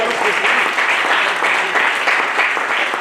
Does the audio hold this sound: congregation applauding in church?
yes